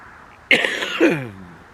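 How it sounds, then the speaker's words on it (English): One short, rough cough sounds close by, starting abruptly and trailing off into a throaty rasp. "My cough's starting to come back on me."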